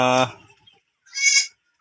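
Goats bleating on a farm in Oriental Mindoro, two loud close calls: a low, buzzy bleat at the start and a higher, thinner bleat a second later, with silence between.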